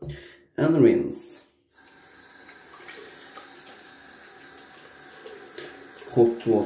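Hot tap water runs for a post-shave rinse: loud splashing of water scooped onto a face with a sharp breath, then a quieter steady stream from the faucet before more splashing at the end.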